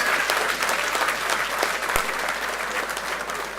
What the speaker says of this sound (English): Give him a round of applause for me